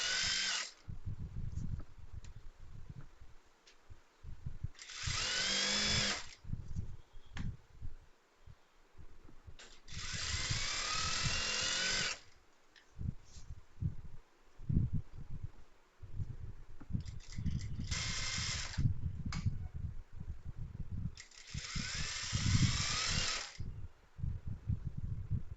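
Stitching a skirt on a sewing machine produces five separate whirring bursts, each lasting one to two seconds, with quieter handling and fabric rustles between them.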